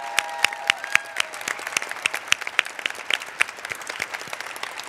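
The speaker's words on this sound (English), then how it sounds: "let's give her a round of applause for her service" An audience at a 2020 Women's History Month kickoff event claps for a departing department leader: uneven, fairly close applause with distinct individual claps, and a brief tonal ring early on.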